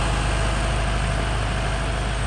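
A farm tractor engine runs steadily at idle, a continuous low rumble and drone close by with no break and no talk.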